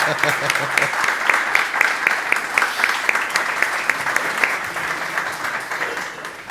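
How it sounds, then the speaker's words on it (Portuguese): A conference audience gives sustained applause, close and loud, with dense steady clapping that holds evenly for several seconds. "Eu pedi uma salva de palmas para a doutora Ruth"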